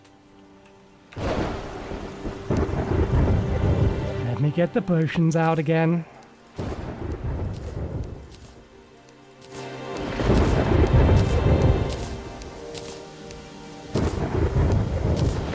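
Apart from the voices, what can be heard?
toxic rainstorm with thunder in video game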